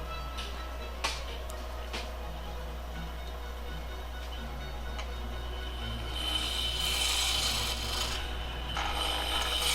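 Beeswax rubbed against a wood-turning tool near a lathe, a soft raspy scraping that grows brighter and busier in the second half, over a steady low motor hum with no talking.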